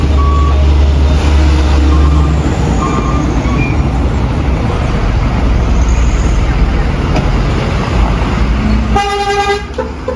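A loud Hino 500 truck engine rumbles nearby, then its reversing alarm beeps in a rapid repeating series near the end.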